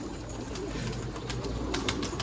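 An escaped pigeon stirs nearby, faint cooing and soft rustling mixed with a few sharp quick flutters against a low background hum.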